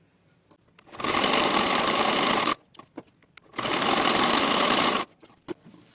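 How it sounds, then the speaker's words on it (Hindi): An electric sewing machine stitches the hem of a salwar in two loud, steady whirring runs of about a second and a half each. Short pauses between them hold light clicks and fabric handling. "पहले हम सिलाई लगा ले रहे हैं, फिर हम डिजाइन बताएंगे।"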